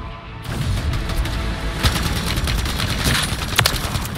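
Rapid automatic gunfire from a weapon in Call of Duty MW3 Zombies, a dense, loud burst of overlapping shots sustained for several seconds with a few sharper cracks standing out.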